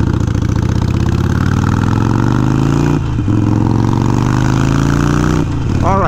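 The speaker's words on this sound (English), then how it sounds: "If it is a little loud, which I expect it will be, but you guys usually enjoy the sound of the exhaust." Harley-Davidson Iron 883 motorcycle engine rumbles loud and close with steady low exhaust pulses, holding a near-constant idle-like throb with two brief dips in level.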